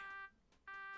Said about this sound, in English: Gotta deal with the alarm going off until